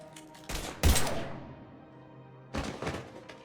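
Gunfire in Mass Effect 3: two short bursts of loud impacts a couple of seconds apart, with a fading tail and low background hum between them, no voices.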